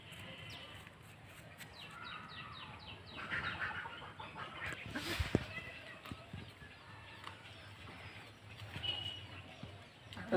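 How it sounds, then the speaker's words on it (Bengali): Desi hens on a goat and poultry farm cluck and cackle in scattered bursts, moderately close, over faint farmyard background noise. "এটা সব দেশি মুরগি বুঝছিস"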